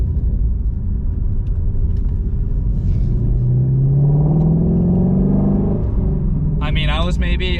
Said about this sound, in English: Little rev match.